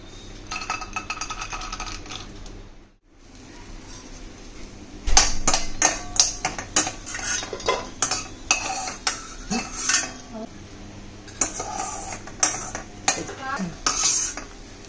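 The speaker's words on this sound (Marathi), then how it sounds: "तेल थोडं मी जास्तच घातले, कारण का मला ना काजू तळून घ्यायचे।" Cashews and peanuts fried in plenty of oil in a hot kadhai: a metal spoon scrapes and clinks against the pan in quick irregular bursts, with a faint sizzle underneath and a short pause near the start.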